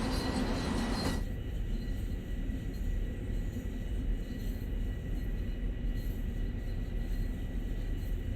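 An M7 LIRR commuter train in Train Sim World 2020 runs with a steady, continuous rumble, an abrupt shift in tone early on, then a constant drone throughout.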